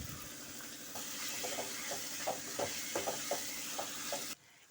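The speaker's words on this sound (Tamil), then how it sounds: "இது கூடவே இஞ்சி பூண்டு பேஸ்ட் 1 ஸ்பூன் போட்டுக்கலாம்." Ginger garlic paste sizzling in a pan with tomatoes for a groundnut kulambu, a steady close frying hiss broken by repeated stirring taps, then cutting off abruptly near the end.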